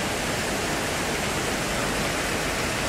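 Cooling tower with its fan running and water falling through it, a steady, loud, dense rushing hiss like a waterfall, unchanging throughout with no voices.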